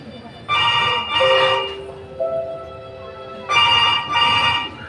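Outgoing telephone call ringback, two paired bursts of electronic ringing separated by a pause with a steady tone between, loud and close, while someone waits for the call to connect.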